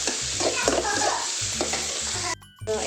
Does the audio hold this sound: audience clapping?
no